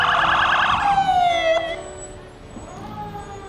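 Sirens from fire department vehicles rolling through a nighttime Christmas parade, a loud rising-and-falling wail that sweeps down and fades as it passes, with no voices over it.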